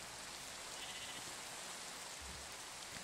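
Steady, faint rainfall in Minecraft patters as an even broadband wash, with a soft bleat-like sound from a farm animal nearby.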